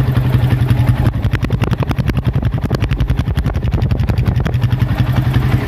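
A Yamaha motorcycle fitted with an aftermarket Suzuki exhaust idles close by, its loud engine throbbing in a rapid, even pulse with a low hum, and no talk.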